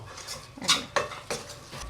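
Sukhdi mixture with a splash of milk stirred in a hot kadai: a few distinct metal spoon scrapes and clinks against the pan over a faint low sizzle.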